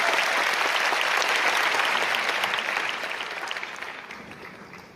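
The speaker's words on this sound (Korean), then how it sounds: "큰 박수 한번 치겠습니다" An audience at a lecture on creativity and success breaks into loud, dense applause that holds strong for a few seconds before tapering off toward the end.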